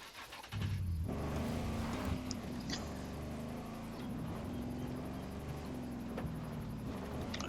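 A military vehicle's engine in the video game Ghost Recon Breakpoint starts up and runs at a steady drone while being driven, then settles as it is parked, with a few faint knocks over the continuous hum.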